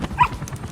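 A dog in Metal Gear Solid V gives a brief bark with a small whimpering whine, one quick close yelp over low game ambience, no talk during it.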